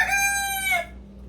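A single rooster, kept with Brahma hens, crows once, close and loud, the call ending abruptly into quiet background.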